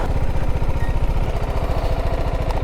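A BMW G310GS single-cylinder motorcycle engine thrums loudly during a city ride, a fast, regular, pulsing beat close to the listener with steady exhaust chatter.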